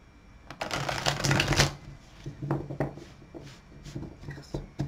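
Tarot cards are shuffled close up for a reading: a dense riffle of papery flutter, then a series of softer, separate taps and slides as the deck is handled and squared.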